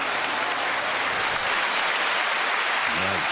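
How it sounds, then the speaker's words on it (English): A canned applause sound effect plays on a talk show, a full steady wash of clapping that stays even throughout, with a brief voice-like tone surfacing near the end. "Look, I got applause for you, Todd."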